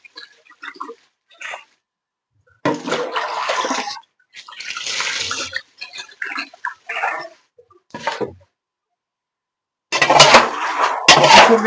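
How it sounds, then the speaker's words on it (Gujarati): Water splashes and sloshes in bursts with pauses between as chickpeas are rinsed and stirred in a basin, close and moderately loud. "જો આ રીતના એકદમ ક્લિયર પાણીથી ધોઈ નાખવાના"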